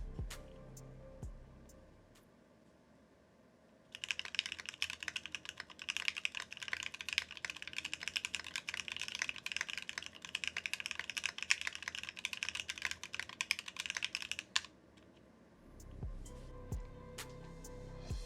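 Rapid, steady keystrokes on a Rooke Design Chapter One mechanical keyboard with a brass plate clatter continuously for about ten seconds, close and clear, after a quiet stretch with a few stray clicks and light handling noises.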